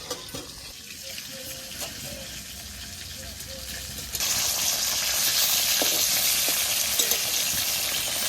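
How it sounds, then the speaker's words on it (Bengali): Red bhetki fish fries lightly in a covered pan, with a muffled sizzle that jumps to a loud, bright hiss as the lid is lifted, plus a few clicks of the lid and utensil. "মাছের ঢাকাটা উল্টে দেখি মাছটা কতটা ভাজা হলো।"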